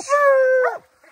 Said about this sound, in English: Now I just gotta get up here and get the dogs tied up.